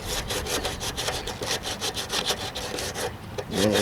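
Sanding block rasps back and forth over Bondo filler on the hood of a 1968 AMX during restoration, a steady run of rhythmic scraping strokes heard up close and alone.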